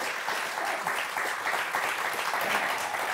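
Studio audience applause on a French TV word game show, a loud, dense, continuous round of clapping lasting the whole moment without pause.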